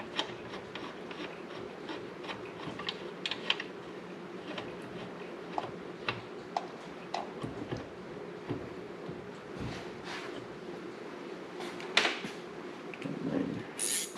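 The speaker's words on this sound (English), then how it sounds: "Ratchet wrench." Ratchet wrench with Craftsman sockets tightening a battery box bolt on a Harley-Davidson frame, giving a steady run of faint, quick clicks over low shop hum for the whole stretch.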